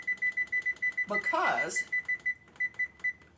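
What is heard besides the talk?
oven timer beeping as it is set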